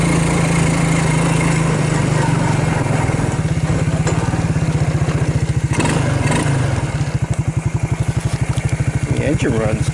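A Suzuki KingQuad 300 ATV engine runs nearby with a steady, rattling putter that roughens and shifts partway through, loud and continuous.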